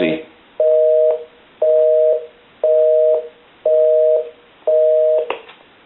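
Busy signal coming through a Spirit of St. Louis speakerphone under repair: five evenly spaced tone bursts, each about half a second long with matching gaps, loud and close, with a brief click at the start and another at the end.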